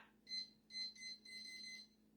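A kitchen timer being set on a cooker while corned beef cooks gives short electronic beeps in a quick uneven series of four, fairly clear against a quiet steady room hum.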